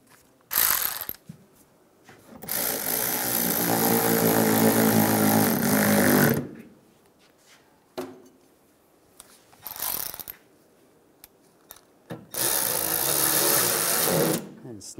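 A ratchet tightens the headlight mounting bolts on a 2007-2013 Chevrolet Silverado in repeated bursts of rapid clicking, close and loud, separated by short pauses with light handling noise.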